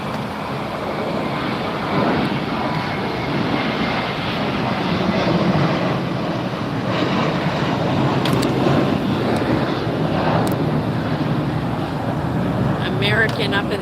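Airliner engines roaring steadily as an American jet takes off at Los Angeles International Airport, a broad continuous rumble heard from a distance outdoors, with faint voices underneath.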